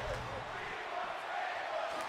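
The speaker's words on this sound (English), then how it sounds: "the crowd is asking for tables" A wrestling crowd at a hardcore-themed show chants for tables, a steady wash of many voices that fills the arena without letting up.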